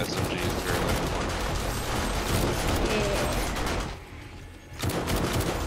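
Rapid SMG fire in the zombie survival game 7 Days to Die crackles in dense bursts, with a short pause before the shooting resumes.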